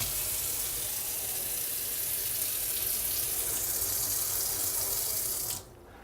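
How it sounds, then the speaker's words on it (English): Tap water runs steadily from a faucet into a sink for about five seconds before being shut off, leaving faint room hiss. "you want to run the water for about 1 to 2 minutes"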